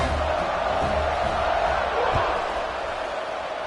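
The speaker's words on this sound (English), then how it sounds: "this crowd is buzzing after that last score" A college football stadium crowd at a Florida Atlantic game buzzing after a score, a dense, steady roar of many voices filling the space, broad and continuous with no single voice standing out.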